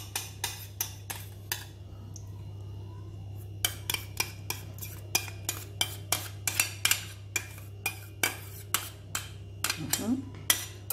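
A spoon stirring a starch mixture in a bowl, clinking sharply against the sides in a quick, regular rhythm, close and distinct over a low steady hum.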